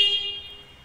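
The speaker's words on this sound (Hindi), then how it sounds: "हॉर्न एक बार सुना देते हैं आपको।" Horn of a Bajaj Platina H Gear 110 motorcycle sounding a single short, bright tone up close that quickly fades away.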